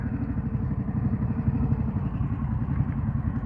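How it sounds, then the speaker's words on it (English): A 2022 Harley-Davidson Pan America engine rumbles loud and close with a steady, throbbing low growl and fast pulsing firing beats, revving while downshifting and holding a fairly even level throughout. "Trying to rev match while downshifting seems to be either difficult or"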